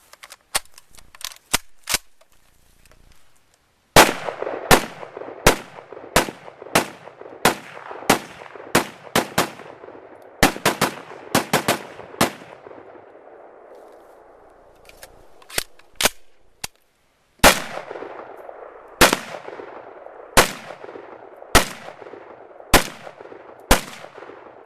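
Israeli FN FAL rifle fired at an outdoor range: sharp, loud single shots spaced about a second apart in several strings, each cracking and trailing off into echo, with short pauses between strings.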